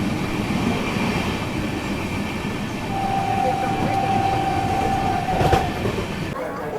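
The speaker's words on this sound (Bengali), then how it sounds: "এসে দাঁড়িয়েছে আমাদের ট্রেন বর্ধমান জাংশনের 1 নম্বর প্ল্যাটফর্মে" The Ganga Sagar Express with LHB coaches pulls into platform 1 at Bardhaman Junction, its steady rumble and rolling wheels filling the scene, punctuated by a sustained metallic squeal of wheels braking.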